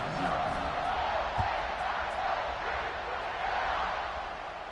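Home crowd at a Michigan football game roars in a steady, loud wash of cheering and shouting, with the dense crowd noise sustained throughout and a brief low thump partway in.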